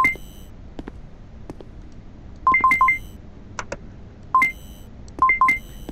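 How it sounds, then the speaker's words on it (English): Short electronic beeps in quick bursts of two to four tones, separated by gaps, with a few isolated beeps between, loud and clear over a quiet background hum. "that beeping's getting very annoying"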